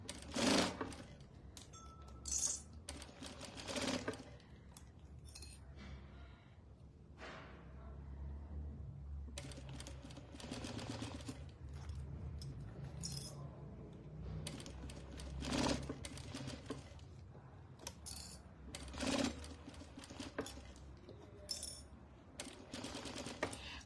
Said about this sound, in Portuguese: E bora costurar.